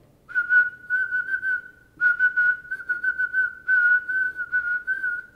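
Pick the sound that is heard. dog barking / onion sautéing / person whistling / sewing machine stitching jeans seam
person whistling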